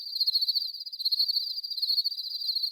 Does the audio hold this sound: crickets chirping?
yes